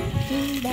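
Chopped onion sizzles in hot oil in a pan, a close, bright frying hiss lasting under a second with a short clink partway through.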